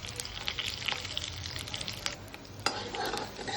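Spices, curry leaves, asafoetida, grated coconut and turmeric sizzle in hot oil in a pan for a potato dish while a spoon stirs them, with close scraping clicks over a steady frying hiss.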